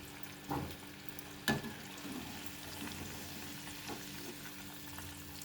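Mango pieces for avakaya pickle fry quietly in a pan with a soft, steady sizzle, broken by a couple of brief louder pops or stirs.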